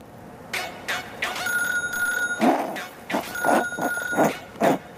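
A phone rings with a bright electronic tone in two sustained bursts, mixed with loud, busy chatter and laughter close by.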